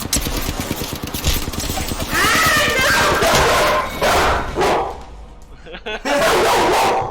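A pet dog barks, yips and whimpers repeatedly in a home during a live gaming stream, loud and close, with game sounds and voices running underneath.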